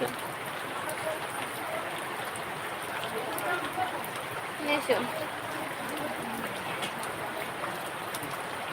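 Heavy rain falls steadily outside a house after more than a week of downpour, a continuous close hiss with occasional drips and faint bumps.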